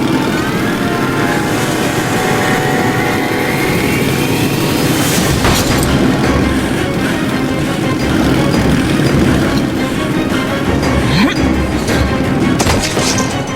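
A loud, continuous rumble of a moving train fills the scene in the video game Metro Last Light, with sharp bursts and crashes of gunfire cutting through the dense noise.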